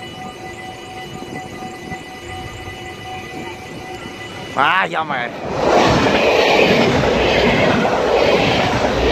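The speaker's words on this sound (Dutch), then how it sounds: "we hebben weer een trein gefilmd" A train passes a railway crossing, its steady rumble and crossing signal tones giving way to a loud rushing clatter of cars, with someone speaking briefly midway.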